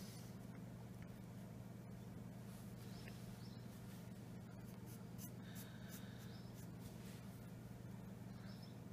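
A pencil scratches and strokes on paper while sketching a Link cartoon figure, soft continuous scraping with occasional brisker strokes over a low steady hum, faint and close.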